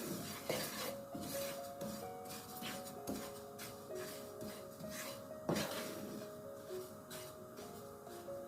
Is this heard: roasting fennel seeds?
yes